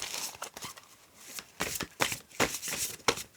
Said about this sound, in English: This deck is very hard to shuffle.